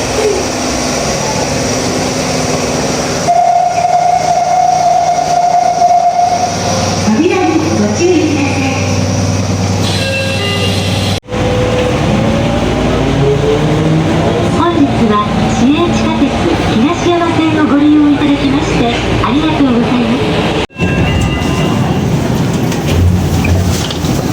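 Train ride on a rail line in Nagoya, Japan, a steady loud rumble of the moving carriage with a brief whining tone and shifting squeals, two short gaps, people talking over it at times.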